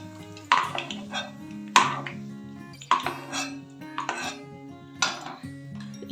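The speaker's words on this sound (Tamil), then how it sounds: "இப்போ முந்திரி, திராட்சை வறுத்து எடுத்துக்கலாம்." A metal spoon clinks and scrapes against a pan as cashews and raisins fry, with sharp, close strikes about every second over a low sizzle.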